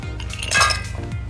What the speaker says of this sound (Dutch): Ijsblokjes wegdoen.